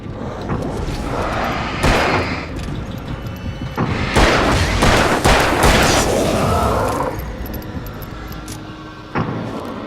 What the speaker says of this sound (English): Som hodil flashbang